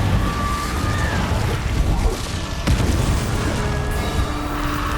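Incendio fire spell blasts cast in the Hogwarts Legacy video game, heavy booming bursts with a sharp crash partway through, loud and continuous over game ambience.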